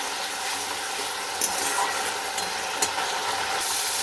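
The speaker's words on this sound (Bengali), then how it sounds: "এবার এতে একটু জল দেব। এটাকে আবার একটু ভালো করে কষিয়ে নেব।" Potato curry with a little added water frying and being worked in a pan, a dense steady hiss of sizzling with a couple of brief stirring scrapes, close and even.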